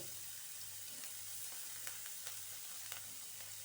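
Food sautés in a frying pan with a faint, steady sizzle and crackle, a few soft stirring clicks scattered through, quiet and close with no talking.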